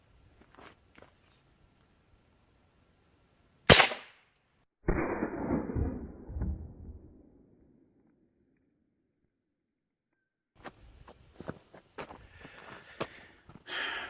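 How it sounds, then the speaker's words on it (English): A single .22 Long Rifle round fired from a Remington 550 rifle at a computer hard drive: one sharp, loud crack, then a rattling impact and clatter that fade, followed by quieter handling noises. "we're going to shoot a 22 long rifle out of my Remington 550"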